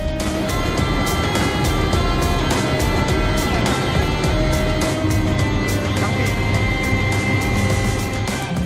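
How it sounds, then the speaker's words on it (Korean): A firefighting helicopter carrying crew roars at takeoff with a loud, sustained engine and rotor noise and rhythmic blade pulsing, close and continuous, with voices faintly under it. "굉음과 함께 대원들이 탑승한 헬기가 힘차게 비상합니다."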